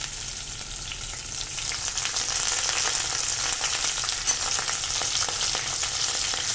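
Curry leaves crackle and sizzle in hot oil during a tempering for Kathiyawadi Girnari khichdi, a dense, steady frying hiss with sharp pops running throughout, close and fairly loud, with no talking.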